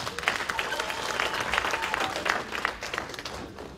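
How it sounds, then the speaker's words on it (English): A crowd at a cultural heritage festival media launch claps in a sustained, moderately loud round of applause, many hands overlapping evenly throughout without a clear voice on top. "can we give them a round of applause?"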